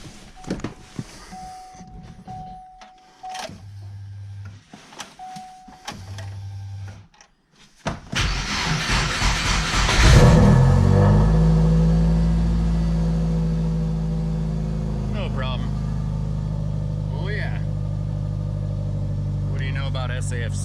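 A rallycross car cranks with several starter clicks and whirs, then fires up and settles into a loud, steady idle rumble, close by, with someone talking at times.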